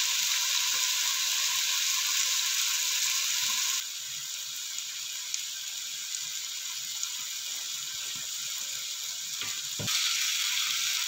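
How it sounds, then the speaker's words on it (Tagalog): Chicken sizzling and frying in a pan for afritada, a steady hissing sizzle throughout with faint scrapes and clicks of stirring, close and alone without voices. "Talagang i-fry mo na siya, parang i-toast mo na, stir fry"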